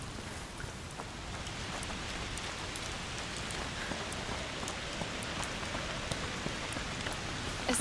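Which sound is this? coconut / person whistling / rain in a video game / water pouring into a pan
rain in a video game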